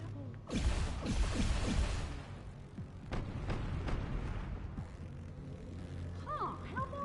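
Cannon fire at a statue in the DC Universe Online video game: a heavy booming blast and rumbling impact burst loudly near the start, followed by lingering crashes and low rumble, with a voice speaking over the tail end.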